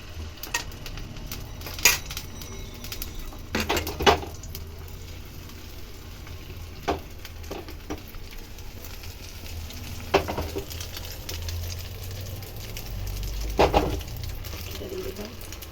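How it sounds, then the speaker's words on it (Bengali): Beaten egg batter frying in a pan for an egg roti, a continuous soft sizzle broken by sharp utensil scrapes and taps at irregular intervals, close by, with no talking. "ডিমের কোলাটাকে ঢেলে দিলাম"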